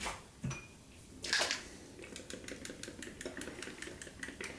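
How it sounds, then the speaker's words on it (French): A short, sharp hiss of olive oil sprayed onto an unbaked pizza, followed by light, rapid clicking and rattling close by, with no talking. "je vais venir vaporiser donc avec de l'huile d'olive"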